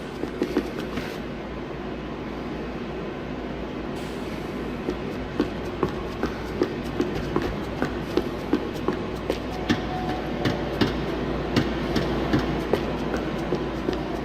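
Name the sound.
trams running again in Max Payne 3 video game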